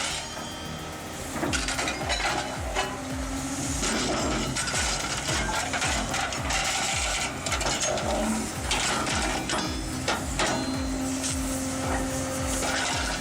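An HSS 600R scrap metal shear cutting scrap metal, with a steady loud mechanical clatter of repeated ratcheting, grinding clanks and metallic clinks throughout, dense and close with no pause.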